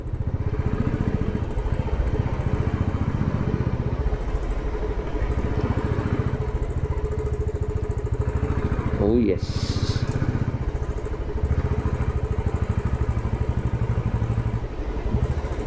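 A motorcycle engine idles steadily throughout with a low, continuous putter, close by at Sinthan Top on a mountain route, while someone speaks briefly over it.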